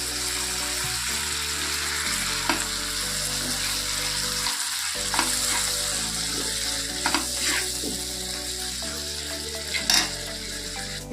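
Spice paste with ginger and garlic sizzles in a wok with a little added water, a continuous close hiss broken by repeated spatula scrapes and stirring clinks, with no talk.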